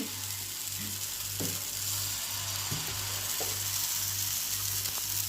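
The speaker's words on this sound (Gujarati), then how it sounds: "તેલ નાખી પછી બેટર નાખી દેવાનું." Moong dal batter poured into hot oil for pudla sizzles steadily up close, a continuous crackling hiss with a few faint clinks of utensils and no talking.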